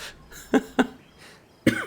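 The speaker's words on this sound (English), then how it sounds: "Wow, I'm coughing out of joy." Three sharp coughs from one nearby person, two close together early on and a third after a short pause, with quiet in between.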